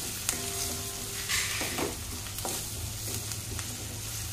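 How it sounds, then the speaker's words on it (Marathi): Garlic, ginger and chili sauté in hot oil for chole, with a soft steady sizzle under a low hum and intermittent scraping stirs of a spoon against the pan. "बघू शकता ती सुद्धा छान अशी तेलामध्ये परतून घ्यायची"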